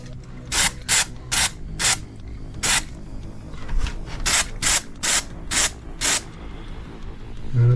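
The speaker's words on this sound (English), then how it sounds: "And then I'm hitting it with the same Kilz spot primer." Kilz spot primer is sprayed from an aerosol can onto PVC trim in roughly a dozen short hissing bursts, loud and close, with brief pauses between them.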